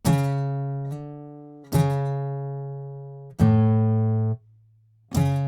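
Acoustic guitar strumming the chorus of a song, four loud chord strums spaced over several seconds, each left to ring and decay, close up with no voices.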